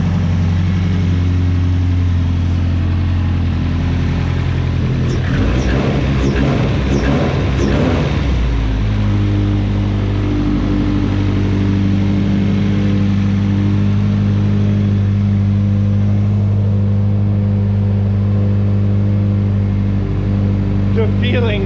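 A race car engine fires up after two years unused, idling with a deep steady rumble and a burst of revving near the start, then settling into a loud, even idle under a speaking voice.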